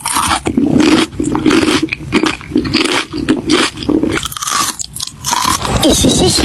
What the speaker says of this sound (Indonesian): Padahal yang kriuk-kriuk Cherry lagi makan keripik